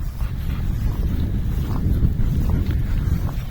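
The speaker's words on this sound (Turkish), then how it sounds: "İnanılmaz güzel esiyor." Strong wind blowing outdoors in the German countryside, a steady loud rushing roar buffeting the microphone with no break, and no talk.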